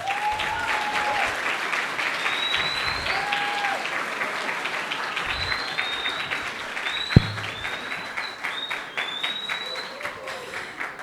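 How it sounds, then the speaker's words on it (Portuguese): Sustained audience applause at an event fills the room steadily for about eleven seconds, dense clapping with whistles and cheers rising over it, one sharp knock near the end. "eu quero mais uma salva de palmas"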